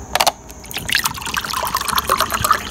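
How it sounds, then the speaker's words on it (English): Water trickles and gurgles into a glass in a close pour, rising in pitch as the glass fills, preceded by a few small clinks, with no talking. "I'm just going to put some water in the glass"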